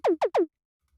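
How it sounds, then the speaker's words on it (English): A Cashmere synth tom sample, pitched up, struck three times in quick succession, each hit a bright, short descending tone, loud and dry with no talking, followed by silence. "This is a Cashmere synth tom."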